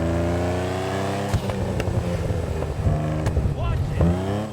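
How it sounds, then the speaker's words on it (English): A classic car engine in a video game revs and drones steadily, its pitch climbing and dropping with several sharp gear shifts, loud and close throughout. "A lot of people might tell you that this is the best sounding car in the game."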